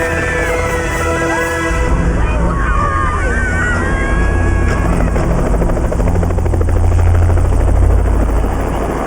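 A helicopter thunders nearby with a loud, continuous rotor chop and engine whine, steady throughout.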